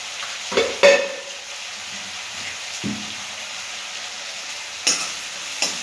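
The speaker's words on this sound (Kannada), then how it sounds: "ಸ್ವಲ್ಪ ಫ್ರೈ ಆಗಲಿ" Egg masala fries in a pan with a soft, steady sizzle, broken by a few sharp utensil knocks and scrapes near the start and end. No one talks.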